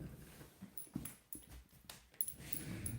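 A wet dog whimpering indoors after coming in from the rain, with soft, brief whines and some shuffling movement, faint and close, and no talking.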